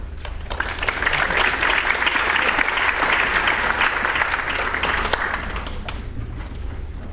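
Audience applause at a National Honor Society induction ceremony, a dense sustained round of clapping that swells quickly, holds for several seconds and tapers off.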